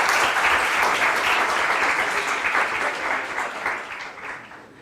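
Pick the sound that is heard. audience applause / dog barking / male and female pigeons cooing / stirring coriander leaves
audience applause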